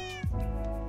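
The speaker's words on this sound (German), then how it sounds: "Katze! Ruhig." A cat in the game Minecraft gives a single short meow, fairly quiet and alone.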